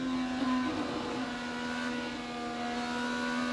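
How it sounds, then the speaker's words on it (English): IndyCar race car engine at the Indianapolis 500, throttle worked on and off, a steady high-pitched engine drone with small surges, fairly close and continuous throughout. "listen to Dixon work the throttle"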